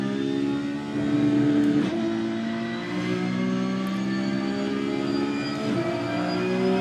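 Race car engines roar in the iRacing sim, a loud, steady drone with tonal whine that dips briefly as revs shift between gears, running alone without talk.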